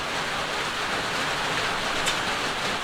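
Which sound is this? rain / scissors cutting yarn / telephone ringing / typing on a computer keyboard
rain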